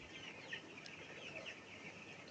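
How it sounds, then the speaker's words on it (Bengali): Broiler chickens cluck softly and continuously at a distance, a low scattered chorus of hens with no voices. "দেখতে পারছেন মুরগিগুলো"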